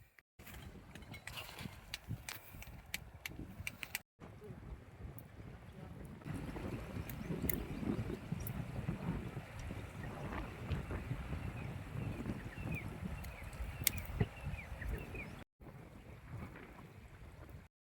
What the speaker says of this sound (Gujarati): હવે પવન વધારે છે તો રસોઈ બનાવવામાં થોડીક પ્રોબ્લેમ થાય છે